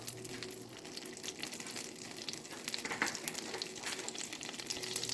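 Butter melting with a splash of olive oil in a frying pan, ready for frying fish, gives a steady close sizzle with faint crackles throughout, no voices.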